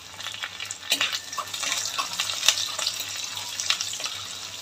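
Garlic, ginger and curry leaves fry in hot oil in a pan, a steady close crackling sizzle with small pops and the occasional stir throughout, no voices.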